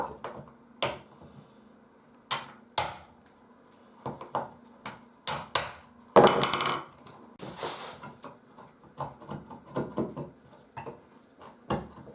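A corner punch chisel jig cutting a door hinge recess into wood gives a run of sharp, close knocks and clicks, some single and some in quick clusters, with quiet gaps between them.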